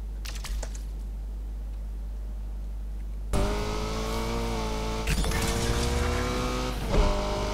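A Honda Civic Type-R engine in the racing game Need for Speed Unbound revs hard and accelerates through rising gear pulls, loud and close, cutting in abruptly over a low steady hum after a quiet stretch.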